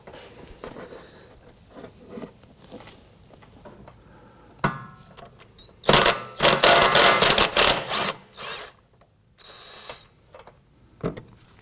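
A 3/8 inch ratchet turns an engine cradle bolt on a 2015-2024 Nissan Murano 3.5L V6, with bursts of rapid clicking ratcheting between quieter handling and tool noises, close up with no speech.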